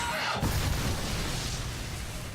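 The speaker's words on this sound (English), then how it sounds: "Not sure what triggered that explosion." An explosion in a Metal Gear Solid 4 cutscene opens with a sudden broad burst, then fades into a long, dull rumbling tail.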